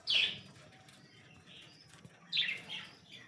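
Budgerigars in a 2x2 breeding cage fitted with nest pots give two bright bursts of chirping, one at the start and one near the end, with faint softer calls in between.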